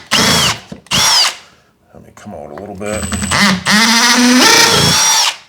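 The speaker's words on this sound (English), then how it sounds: "this drill that I have is also a hammer drill. And you can hear it when I do this." A hammer drill runs in loud bursts between short stretches of speech, with a rising, whining motor pitch, close by while a person talks nearby.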